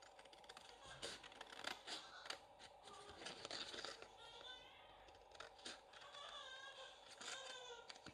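Large scissors snip through cardboard for a craft box in quick crisp cuts, close and faint, with a voice talking over the cutting.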